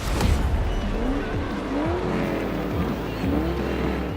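The Hot Wheels Twin Mill in Forza Horizon 4 races along, its engine revving up and down in repeated rising sweeps with tire squeal and skidding, loud and close throughout.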